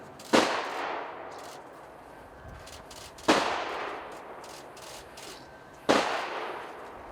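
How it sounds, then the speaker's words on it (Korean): A ceremonial honor guard fires three rifle volleys at a memorial service, each a sharp loud crack followed by a long echoing decay, evenly spaced a few seconds apart with silence between. "조총은 3회 발사됩니다"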